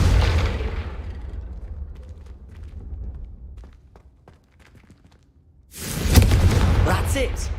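Confringo blasting-spell explosions in Hogwarts Legacy: a loud rumbling blast fades out, a few soft knocks follow in near silence, then a second heavy, roaring blast erupts close by.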